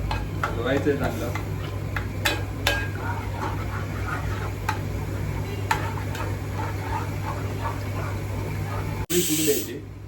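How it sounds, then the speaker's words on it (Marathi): A pomfret fish curry being stirred in a pan after water is added, with a constant simmering hiss and repeated scraping spoon strokes, then a short louder splash near the end; a voice is faintly present. "हलवायचं आहे चांगलं."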